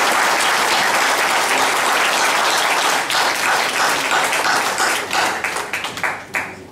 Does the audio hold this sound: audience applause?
yes